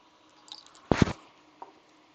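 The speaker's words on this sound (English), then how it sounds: "Here's my alcohol drip bottle." Isopropyl alcohol drips from a squeeze drip bottle at an electronics workbench: two quick wet plops close together, then a fainter third drop, in an otherwise quiet room.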